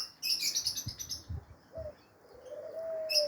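Birds chirping and cooing in the sky on a hot 40-degree day, several short calls and a longer drawn-out note, moderately near with no voices.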